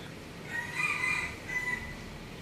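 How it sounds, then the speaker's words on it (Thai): A rooster crows once at a distance, a faint drawn-out call rising over a quiet background hum. "ฟังมันขัน สุดยอดเลย"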